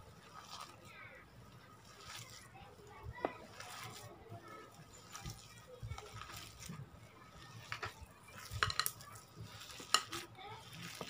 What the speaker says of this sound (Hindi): अब सबको हम अच्छे से मिक्स कर लेंगे चिकन के साथ में